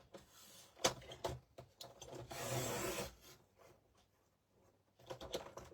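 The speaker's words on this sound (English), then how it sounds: "I use an old trimmer." An old paper trimmer cuts card covers with a few rasping, scraping strokes and a longer grinding pass in the middle, quiet and close with pauses between.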